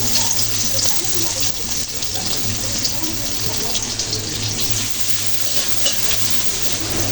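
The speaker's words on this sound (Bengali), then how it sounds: "পেঁয়াজ কুচিগুলো হালকা ব্রাউন কালার করে ভেজে নিতে হবে" Chopped onions frying in hot oil in a pan, a steady dense sizzle running throughout with a faint low hum beneath.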